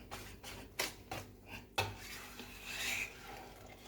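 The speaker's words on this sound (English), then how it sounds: "Cinnamon powder. I'm gonna stir this." A spoon stirring cinnamon powder into a Jamaican dasheen pudding mixture in a bowl, a few scraping clinks and rubbing strokes at an uneven pace, close and soft.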